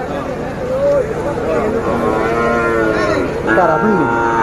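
A cow moos at the Chanderchar Bazar cattle market, long drawn-out lowing calls that rise and fall, close and loud above a busy background of voices and crowd noise.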